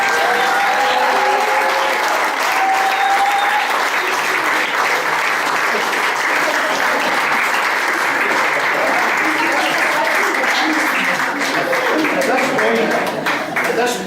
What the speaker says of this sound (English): they deserve the biggest round of applause here tonight